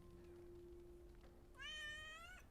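A cat gives a single clear, rising meow over quiet room tone with a faint steady hum underneath.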